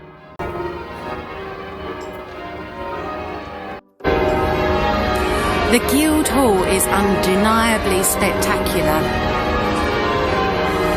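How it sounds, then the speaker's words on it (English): Loud, continuous pealing of church bells in historic London fills the scene, ringing steadily over someone speaking nearby. "I can hardly hear myself talk here. Those bells are glorious."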